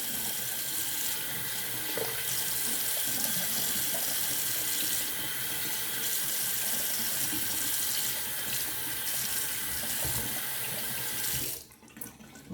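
Tap water running into a sink during a rinse after shaving, a steady hissing splash that holds evenly for about eleven seconds and then cuts off abruptly.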